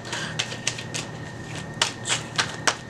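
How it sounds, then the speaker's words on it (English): Tarot cards being shuffled by hand, a string of sharp papery riffles and snaps in irregular bursts, close and clear with no talking. "And one last shuffle."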